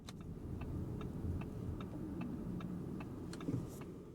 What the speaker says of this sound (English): And what about the turn signal sound?